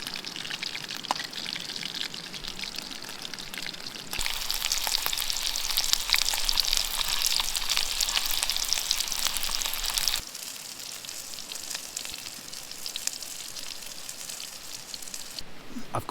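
Pheasant fries in a pan at a wild camp by a mountain stream, a crackling sizzle that steps up loudly for several seconds, then drops back to a softer steady hiss.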